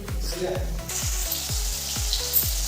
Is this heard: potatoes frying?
yes